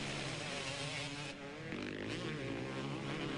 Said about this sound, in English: you can hear that 4-stroke KTM, can't you?